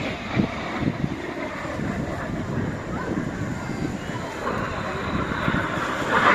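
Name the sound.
Red Arrows synchro pair jets flying past at airshow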